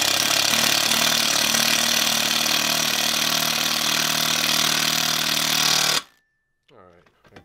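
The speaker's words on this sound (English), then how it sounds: "I'm going to take the drill here, and get it in there, make sure I got some good downward pressure." A power drill drives a bolt into a chair frame while the sling is replaced, a loud steady whirring grind lasting about six seconds before cutting off, followed by a brief bit of talk.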